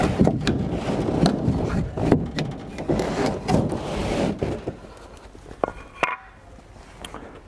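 Wooden crate brackets slide out after their lag bolts are removed, giving scraping, knocking and thudding handling noises near and fairly loud, with scattered sharp knocks toward the end.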